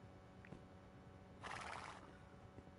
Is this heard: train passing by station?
no